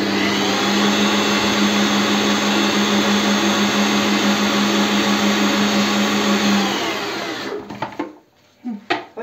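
An electric chopper whirs steadily for about seven seconds while dicing peppers for gözleme, a loud continuous motor drone that then stops, leaving a few clatters and bumps.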